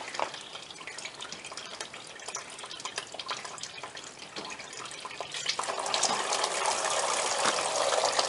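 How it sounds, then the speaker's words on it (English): Coolant drains from the radiator of a 2005 Hyundai Santa Fe with a 2.7L engine, pouring in a steady close splash that surges louder and fuller toward the end. "as soon as I release that radiator cap, it should drain pretty fast"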